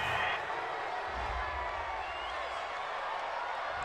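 A home crowd in a Madden NFL 20 football game roars in a steady, dense wash of cheering after a call on an interception return, holding at an even level throughout.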